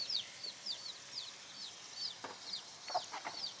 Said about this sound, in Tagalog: Grabe yung manok oh. Mukhang galit siya oh.